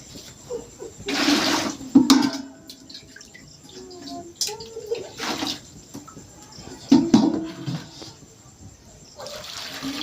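Soaked chickpeas and potatoes are rinsed with water in a village kitchen, with intermittent splashing and sloshing bursts, fairly close, separated by quieter pauses.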